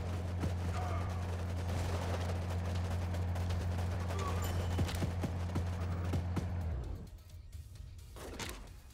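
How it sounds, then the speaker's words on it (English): An M249 machine gun fires in bursts in the military strategy game Warpips, its quiet crackling reports mixed with other battle shots over a low droning hum that cuts out near the end. "Come in here with your machine gun,"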